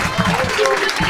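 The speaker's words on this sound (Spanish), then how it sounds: "Un aplauso grande para Goyo," An audience on a live radio comedy show claps for a guest, with brief warm applause that swells and fades under a talking voice.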